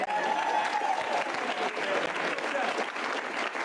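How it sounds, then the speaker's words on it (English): A comedy club crowd at an improv show claps loudly and steadily, a thick wash of applause with a few cheers and voices rising within it. "Give a round of applause."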